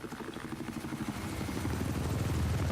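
An enemy helicopter in the video game Battlefield 4 thrums with a steady rotor chop that grows denser and louder over a few seconds, as if closing in, with no voices over it.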